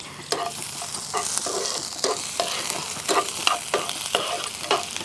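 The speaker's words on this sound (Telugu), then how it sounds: "అన్నీ ఇట్లా బాగా పెద్ద మంట మీద ఫ్రై కావాలి" Garlic and ginger fry over a high flame for chicken manchurian, a loud continuous sizzle with brisk, regular spatula strokes scraping the pan, close up and without voices.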